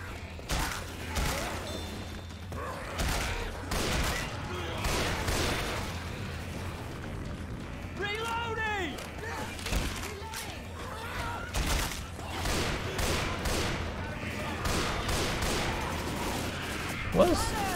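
Gunfire rattles in the zombie shooter video game Left 4 Dead 2, with repeated sharp shots and bursts mixed with other in-game effects and mechanical clatter through a busy, continuous stretch.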